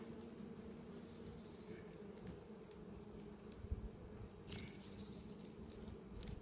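A low, steady drone of honeybees inside a hive hums throughout, faint and even, with a few soft clicks and taps but no voices.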